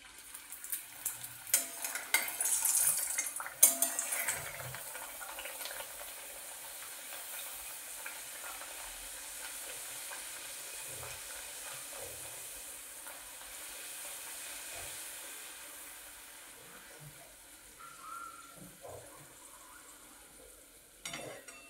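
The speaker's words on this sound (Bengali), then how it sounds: "এমনি করে প্রত্যেকটা ভেজে নেব।" Rohu fish kachoris fry in hot oil with a soft, steady sizzle that runs throughout at low level, broken by a few brief clinks and bumps early on.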